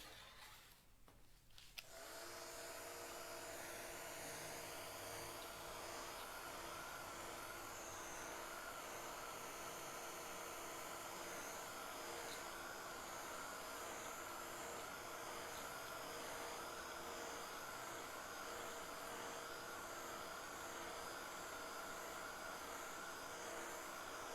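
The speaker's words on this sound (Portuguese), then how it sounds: "Deixar secar um pouquinho, vou usar o secador." A hair dryer runs continuously at a steady, even whoosh while drying paint on an MDF panel, switching on after a brief moment and holding a constant faint roar with no talking.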